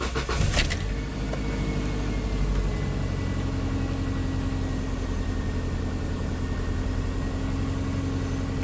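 A 2004 Subaru Outback engine, just fitted with a new O2 sensor, cranks briefly and catches, then settles into a steady, close idle hum that runs without a break.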